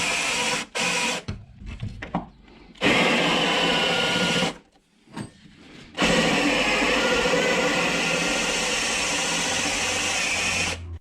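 A drill bores a 1/8-inch pilot hole through the metal rocker panel of a Mercury Sable station wagon, whining in several short, close bursts separated by brief pauses, then running in one long steady stretch.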